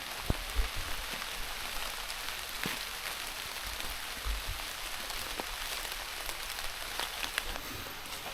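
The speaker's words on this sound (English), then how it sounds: "put on my wet clothes again because it's still raining" Rain falling outdoors during a wet day of deer hunting, a steady soft patter on surfaces with scattered closer drops tapping, even and quiet throughout.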